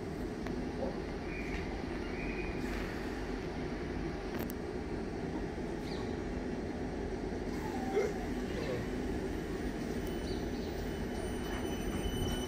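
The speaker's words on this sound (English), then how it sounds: "there's that train. Nice, big, sexy red train." A train rumbles steadily past with a continuous low roar and faint rail clatter, with occasional brief squeaks and distant voices in the background.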